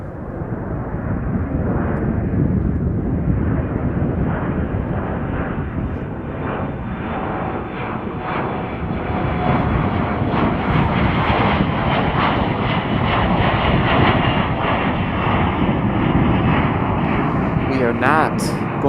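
A jet at Chicago O'Hare International Airport roars steadily through the whole stretch, loud and broad, with a faint voice underneath near the end.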